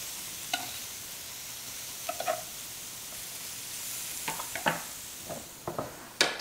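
Faux bacon sizzling on a George Foreman grill, a quiet steady hiss with several brief scraping and tapping sounds as it is turned.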